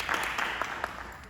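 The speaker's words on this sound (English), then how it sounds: "Y'all can clap." Employees applauding at a hospital campus townhall meeting: a brief, fairly faint patter of clapping from a modest room audience, with a few sharper claps standing out over about a second.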